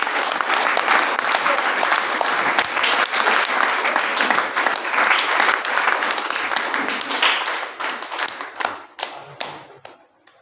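Audience at a Buddhist dhamma talk clapping loudly to welcome two speakers, a dense sustained burst of applause that thins into scattered claps near the end.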